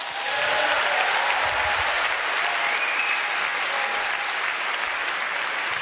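Sustained, loud applause fills a debate hall, a dense wash of clapping from a large audience that holds steady for several seconds with faint voices mixed in.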